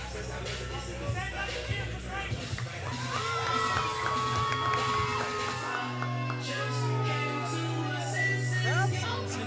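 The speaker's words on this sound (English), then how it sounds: "Crowd seems to know who he is. Not like him very much though." A wrestling crowd reacts to a hulking wrestler's entrance with a continuous murmur and scattered shouts and cheers. A commentator talks over it throughout.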